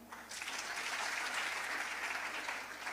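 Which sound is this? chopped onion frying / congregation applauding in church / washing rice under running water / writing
congregation applauding in church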